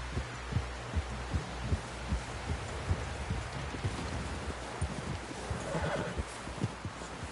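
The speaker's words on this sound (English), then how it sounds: "Someone help John down off this horse" Horse in the Red Dead Redemption 2 video game, with repeated clip-clop hoofbeats and snorting at close range plus a whinny near the end, all over low rumbling ambience.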